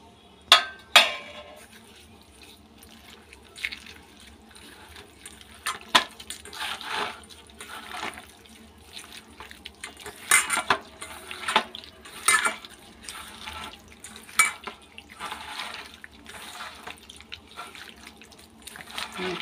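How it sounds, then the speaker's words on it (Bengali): Tomato, grated ginger and salt being hand-mixed into a wet marinade, with soft squelching, dripping and occasional clinks of a bowl in an irregular rhythm, close and fairly quiet. "আর টমেটো আর আদাটা গ্রেট করে নিয়েছি, নুন দিয়েছি, দিয়ে এখন মেখে নেব।"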